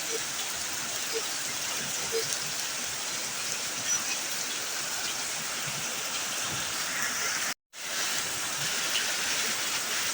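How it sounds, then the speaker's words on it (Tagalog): Dense, steady downpour from a typhoon in Baguio City, Philippines, hissing continuously across the whole stretch, a heavy rain roar with scattered drops, briefly cutting out once near the end. "Sobrang lakas ng ulan"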